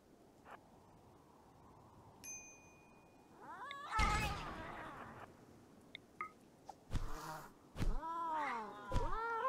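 Cats meowing in the video game RimWorld, a series of loud, rising and falling meows and yowls arriving in bursts over soft background ambience, with no talk.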